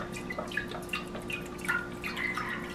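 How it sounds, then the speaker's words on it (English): Chicken broth poured into a roasting pan with a whole chicken, a soft, continuous run of small drips and splashes at close range. "Pouring the other half over here."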